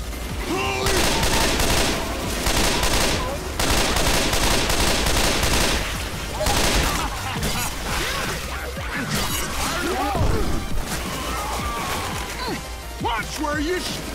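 Rapid gunfire in the zombie shooter Left 4 Dead, bursts of automatic shots and volleys crackling loudly and almost continuously, with short gaps, while players shout over the shooting.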